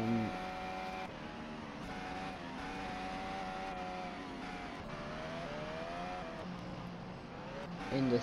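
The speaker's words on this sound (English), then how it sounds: "let's go on board Pourchaire for the lap of the Seattle street circuit" Onboard engine sound from a Formula 2 race car lapping the Seattle street circuit during sprint qualifying, a steady loud tonal drone with shifting pitch as the car accelerates and brakes, running continuously for the whole stretch.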